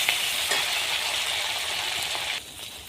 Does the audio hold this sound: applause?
no